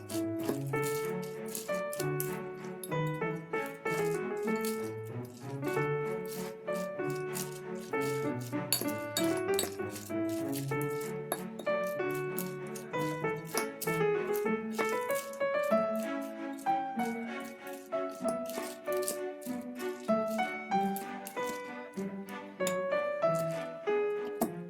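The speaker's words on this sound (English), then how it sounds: "Then mix well to combine everything" Almonds and walnuts rattle and clink against a bowl as an orange nut salad is stirred together, a steady close scraping and jostling that runs throughout under soft background music.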